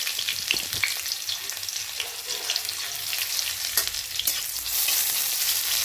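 Garlic, onion and ripe chilli fry in hot oil while cooking taro stolons. A steady, close sizzle runs throughout, with occasional stirring scrapes and clicks of a utensil against the pan.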